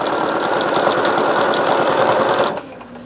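Sewing machine stitching binding onto a Liberty fabric quilt, a continuous, fairly loud rapid whirring with a fine rhythmic chatter that cuts off near the end, leaving a quieter room.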